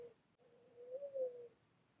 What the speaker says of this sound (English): hear that pigeon?